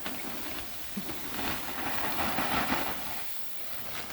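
A bag of local compost tipped into a mixing pile for organic potting soil, a steady loose rushing hiss with a few soft thumps, fairly quiet and close, with no talking.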